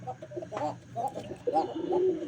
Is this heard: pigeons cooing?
yes